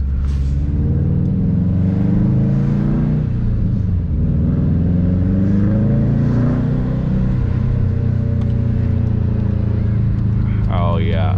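Stage 1 2018 Subaru STI engine accelerating, a deep throaty rumble rising in pitch through the gears, heard from inside the car with people talking over it.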